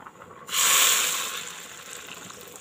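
A sharp sizzling hiss bursts up as hot spice tempering with red chilli and whole cumin is poured onto khichdi, then slowly fades to a soft crackle.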